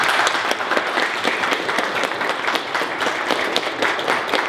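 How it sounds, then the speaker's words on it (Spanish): Warm, continuous applause from a panel audience welcoming a speaker at a public policy event, many hands clapping steadily at close range with little talk over it. "les agradecería mucho un caluroso aplauso de bienvenida a Dulce Colín"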